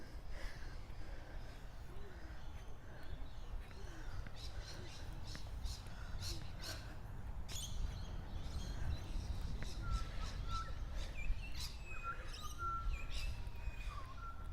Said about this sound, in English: that bird call is a butcher bird